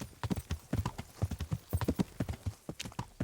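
Horse hooves clip-clop in a quick, steady rhythm in the medieval game Kingdom Come: Deliverance, close and clear, with no talking.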